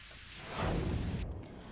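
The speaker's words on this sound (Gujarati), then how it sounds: "ધોધમાર વરસાદ વરસી રહ્યો છે" Steady, dense hiss of heavy rain pouring down in Gujarat, India, swelling slightly louder midway before easing back, with no voices.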